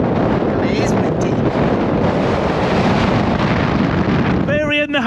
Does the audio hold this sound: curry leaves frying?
no